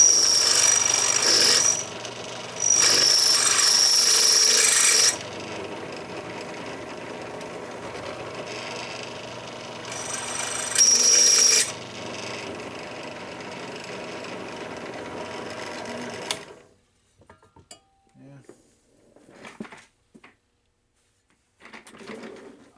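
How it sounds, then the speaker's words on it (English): A power tool cuts a chamfer on a part during a power supply repair for a 1976 Exidy Death Race arcade machine. The cutter whines loudly in several bursts, then stops, leaving faint handling noises. "I just want to put a chamfer on this."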